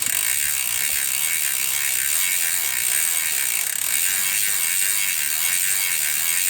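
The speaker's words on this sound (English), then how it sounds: "now I'll just spin the pedal backwards and scrub the cassette" A bicycle freehub ratchets in a fast, steady, continuous clicking as the pedal is spun backwards during a cassette scrub with degreaser, close and loud with no talking.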